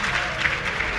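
Crowd cheering and applauding at the start of a battle during live Total War: Rome 2 gameplay, a dense continuous wash of clapping and voices, loud and brief.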